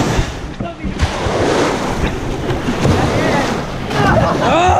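Ocean waves surge and churn loudly near the microphone at a rope swing spot, with wind buffeting and excited voices shouting over the steady water roar.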